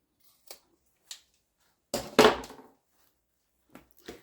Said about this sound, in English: So I'm going to cut the excess zipper off